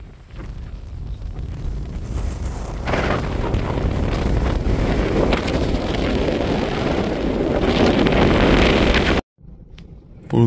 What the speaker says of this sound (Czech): Vítr tím dál zesiluje, takže jsme se přemístili do auta a musíme se takhle nějak vyspat.